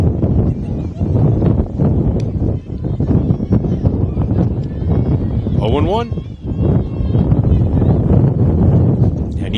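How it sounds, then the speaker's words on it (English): Strong gusting wind buffets the microphone at an outdoor softball game, a loud, constant roaring rumble that never lets up, with a commentator talking beneath it. "you can tell by the wind, it is windy"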